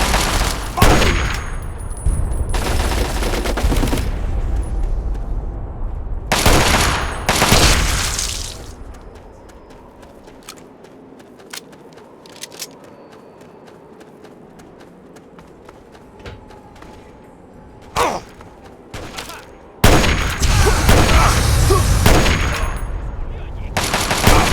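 Fallout 3 Operation Anchorage combat: loud bursts of rapid gunfire and booming artillery come in heavy stretches, with a quieter lull of distant shots and rumble between them.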